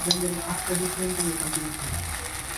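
Vegetable chowmein tossed and stirred in a pan gives a steady frying hiss with scraping utensil strokes, close by, with a faint background hum and brief low voice murmurs.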